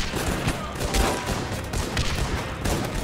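Dense, crackling volleys of overlapping gunshots from the Guns Up! battle sound continuously for a few seconds, moderately loud, with no voices.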